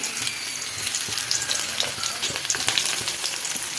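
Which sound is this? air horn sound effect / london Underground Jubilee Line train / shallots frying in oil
shallots frying in oil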